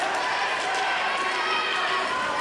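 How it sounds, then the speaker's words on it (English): Wrestling crowd at a live show urging a trapped wrestler to tap out, a loud, dense roar of many voices sustained throughout. "Crowd here trying to get Josiah to tap"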